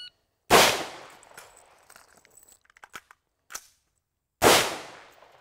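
Two loud, sharp rifle shots from an AK vs AR shooting drill, one near the start and one near the end, with light clatter and metallic handling noises between them.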